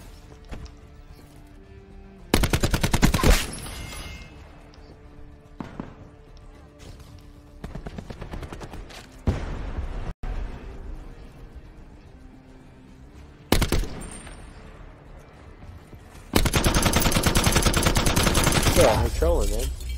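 Video game gunfire in loud bursts of rapid shots, several separated volleys with quieter stretches between them and no speech over them.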